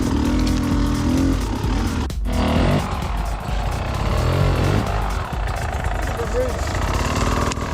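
An enduro motorcycle labours up a steep hill with its clutch slipping, the engine droning continuously at a close, loud, fairly steady pitch with small revving swells and a brief sharp thump partway through.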